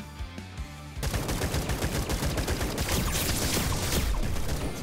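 After a quiet moment, gear in the video game Atomic Picnic fires a dense, rapid volley of bullets, a loud continuous rattle of shots that holds steady to the end.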